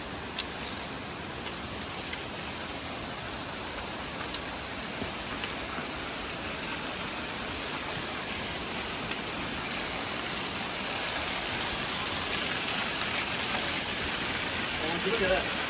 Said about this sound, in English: You get to these lovely spots where you just find these random waterfalls.